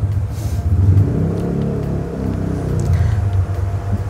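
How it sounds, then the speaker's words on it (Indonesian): A motor engine rumbles and revs steadily at close range, its low droning tone rising and falling over a few seconds. "kecilin kali suaranya itu motor"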